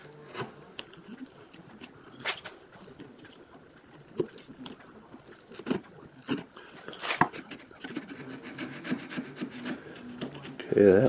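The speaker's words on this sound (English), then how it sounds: "then I will shave the top to a point" Hand tool shaving and rasping wood while shaping a guitar peghead volute, a series of close, uneven scraping strokes with occasional sharper rubs, no talk.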